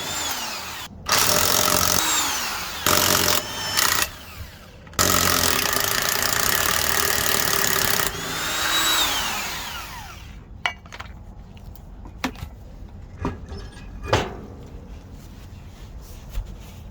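A power tool removes a car wheel during a wheel-bearing repair, sounding as loud on-off whirring bursts over about eight seconds, then quieter ratcheting clicks and sharp taps.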